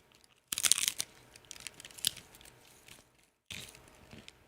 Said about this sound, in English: The shell's kind of very crunchy